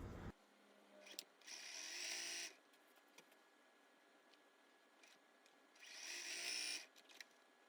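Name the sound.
sewing machine stitching fabric pieces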